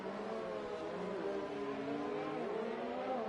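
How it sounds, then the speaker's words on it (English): Formula 1 race cars pull out of the pit lane at Zandvoort in a racing video game, a steady layered engine drone with shifting revving pitches, moderately faint and continuous, no voices. "All leaving the pit now"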